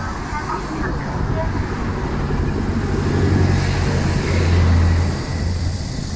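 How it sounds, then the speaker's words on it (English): Steady city street traffic heard while cycling in Beijing's Fengtai District, a continuous low roadway rumble with passing vehicles, one swelling louder and nearer around the middle, and faint speech blended into the background. "navigating with the opposite traffic."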